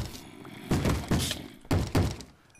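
Video game zombies bang heavily against a door, four loud knocks spaced unevenly over a couple of seconds, with a faint hum underneath.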